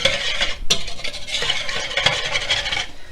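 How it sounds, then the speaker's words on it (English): A whisk beats through a beef jerky marinade in a bowl, fast continuous clattering and swishing with a sharp knock early on, close and loud. "we want to whisk it up a little bit"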